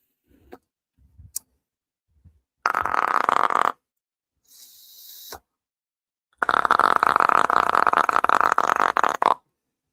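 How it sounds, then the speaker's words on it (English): Several short bursts of a wet, spluttering fart noise, loud and close, separated by silence and a brief higher-pitched squeak, with no talking over them. "Sounds like a wet fart"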